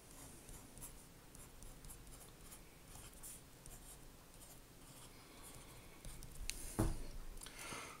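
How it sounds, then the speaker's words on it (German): A stylus scratches and glides across the paper-like screen of a reMarkable tablet in soft, continuous strokes, faint and close, ending with a slightly louder tap or bump near the finish. "Auf diesem Blatt Papier kann ich mir dann nach Belieben schreiben."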